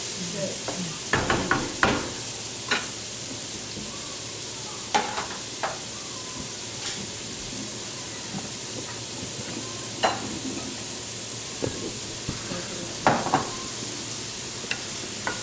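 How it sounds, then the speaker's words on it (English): A large chopped onion fries and sizzles in a pan as the base for seafood paella. A soft steady sizzle runs throughout, broken by scattered scraping stirs and clinks of the spoon against the pan. "And mix it all up and cook it for a little while."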